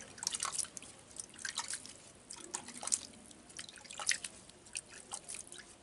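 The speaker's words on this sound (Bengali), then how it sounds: "তো এরপর আমি এতে জল দিয়ে দেবো।" Water trickles and drips onto soil in a potted ketaki plant, sounding as soft, irregular close splashes and drips in quiet surroundings.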